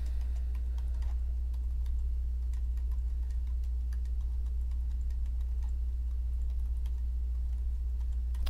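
Light keystrokes on a computer keyboard tap out a comment in an irregular, steady patter, soft and close over a constant low electrical hum.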